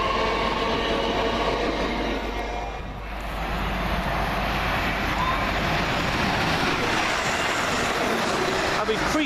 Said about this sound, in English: 377-208.